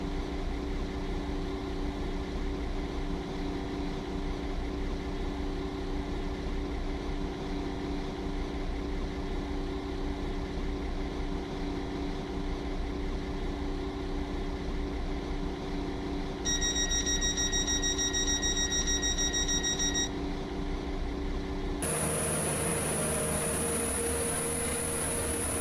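A Waterline train to Newry runs with a steady low hum and a constant drone inside the coach. Short electronic tones sound near the end, then a brighter shift in the background noise. No one speaks.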